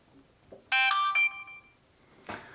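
A short electronic chime of bright tonal beeps plays as an Insta360 ONE R 1-inch action camera powers on, followed by a soft click in a quiet room.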